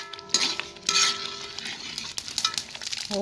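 Soya bean stew cooks in a pot, with a brief close burst of bubbling and sizzling plus light clinks of a utensil against the pot.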